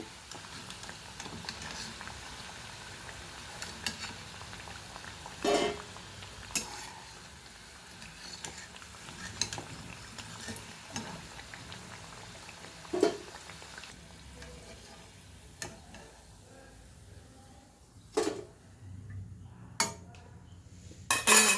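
Jowar flour kodubale fry in hot oil with a soft, continuous bubbling sizzle. Sharp metallic clinks of a slotted spoon against the pan punctuate it every few seconds, and the frying fades quieter toward the end.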